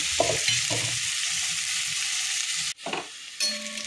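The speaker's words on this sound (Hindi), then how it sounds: "पूरा लाल लाल करके पियाज को भाजीदबा" Onions fry in oil until reddish, giving a continuous close, loud sizzle with stirring scrapes. Near the end the sound drops briefly, then the sizzle returns.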